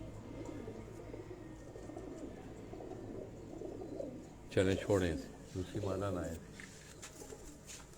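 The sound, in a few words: pigeons cooing, Batera breed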